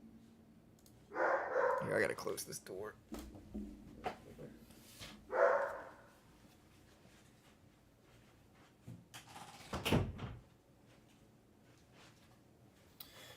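A dog barks in a couple of sharp bursts, early and again a few seconds later, somewhat off-mic in a home setting, while a person talks nearby.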